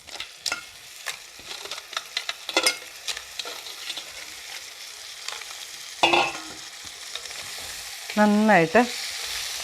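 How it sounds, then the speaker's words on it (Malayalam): Crab pieces go into a pan of sautéed aromatics and start frying, with loud stirring scrapes and clatters against the metal, a sudden burst of sizzling, and a brief spoken word in between. "ഈ സമയത്ത് നമ്മുടെ ഞണ്ടിനെ എടുത്ത് നമുക്ക് ഇതിനകത്തോട്ട് ഇടണം."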